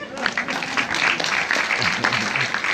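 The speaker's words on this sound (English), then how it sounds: "A round of applause" A room full of people applauds at a community health event about sickle cell, steady clapping mixed with talking and cheering voices.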